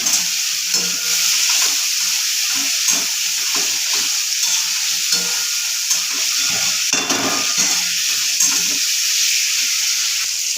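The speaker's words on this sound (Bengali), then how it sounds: "দিয়ে ভালো করে একটু কষিয়ে নিতে হবে, তেল ছাড়া অবধি অপেক্ষা করতে হবে আমাদের" Spice paste sizzles and fries steadily in hot oil while being stirred for a papaya curry, a continuous bright crackling hiss with soft scraping strokes of the spoon.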